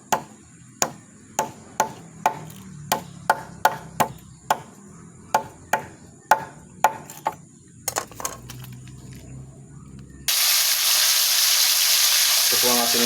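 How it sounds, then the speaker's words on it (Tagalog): Tilapia goes into a frying pan: a run of sharp, evenly spaced knocks is followed by a sudden loud, steady sizzle of hot oil. "Piniprito ko na po ang ating ulam na isda."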